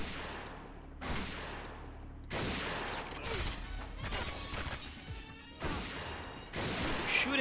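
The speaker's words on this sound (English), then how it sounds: "You're shooting at me, man." Sniper and firearm shots ring out in the video game 007: Agent Under Fire. Several loud, separate bursts and crashes are spread across the moment, with no talking.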